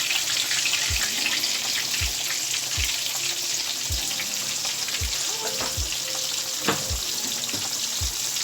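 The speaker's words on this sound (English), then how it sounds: "So I'm going to go ahead and put my pork chops in here, and I'm just going to do 2 at a time." Thin pork chops fry in a cast iron skillet, giving a loud, steady sizzle and crackle with a few faint low thumps underneath and no talking.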